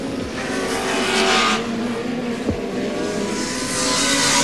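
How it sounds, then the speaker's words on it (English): Turbocharged touring race cars at Winton Raceway during the 1989 Australian Touring Car Championship, engines roaring loudly with shifting revs and a brief sharp mechanical crack, a dense continuous racing din. "Peter was very keen to get the power of the turbo on to scoot up that hill"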